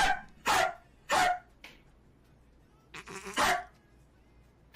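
A person imitates a dog, letting out sharp bark-like yelps, first two loud barks, then a short yip, and after a pause a rougher cluster of barks ending in one loud bark, all close and alone.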